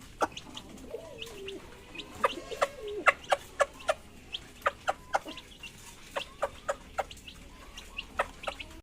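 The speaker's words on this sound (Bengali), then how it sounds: "এই যে পায়রা মুরগি খেতে দেওয়া কমপ্লিট" Chickens clucking and pigeons cooing inside a fancy pigeon loft at morning feeding time, with a steady run of short, sharp calls at close range and no talk.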